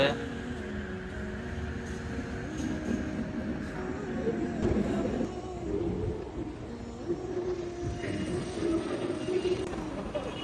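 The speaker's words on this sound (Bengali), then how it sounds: "এই যে ট্রেন ছেড়ে দিয়েছে।" A metro rail train pulls away from a station platform in Malaysia, its low rumble and rising motor tone steady and fairly close, with faint voices in the background.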